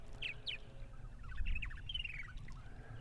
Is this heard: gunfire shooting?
no